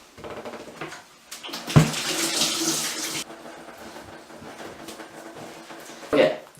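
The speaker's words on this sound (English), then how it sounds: "I guess I could wash my hands." A kitchen tap runs for a couple of seconds as hands are washed, a hissing splash of water that starts abruptly and then fades, with quiet talking around it and another short splash near the end.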